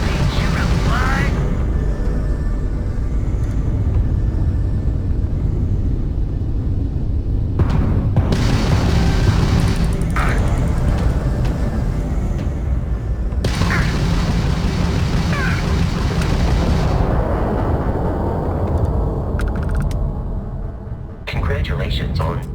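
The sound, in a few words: starship combat explosions in video game Starfield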